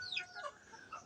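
Newly hatched chicks and hens at a nest box, giving faint high peeping and clucking calls in short bursts throughout, close by and fairly quiet.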